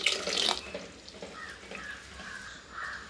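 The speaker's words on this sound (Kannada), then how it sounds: "ನಿಮಗೆ ಸಾರು ಎಷ್ಟು ಬೇಕೋ ಅಷ್ಟು ನೀರು ಹಾಕ್ಕೊಳ್ಳಿ." Water is poured into a pot of black chana curry (kadle kaalu huli saaru), a short splashy gush at first, then a quieter trickle and slosh nearby.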